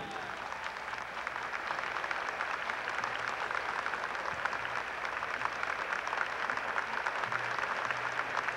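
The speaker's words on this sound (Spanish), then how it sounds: "pido ahora el aplauso fuerte para Julio César Estupiñán." Steady, sustained applause from a theatre audience fills the whole stretch at a moderate, even level, with no talking.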